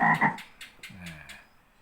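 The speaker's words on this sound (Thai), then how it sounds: "ผมก็เอาเสียงกบแล้วกันนะครับ" A frog croak sample played from the keys of a Korg PA600 arranger keyboard: a few croaks in quick succession, then a lower drawn-out croak fading into quiet.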